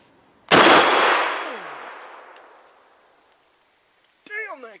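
Shotgun fired toward an AR500 steel target plate outdoors: one loud close blast with a long rolling echo fading over about three seconds, followed by a brief voice.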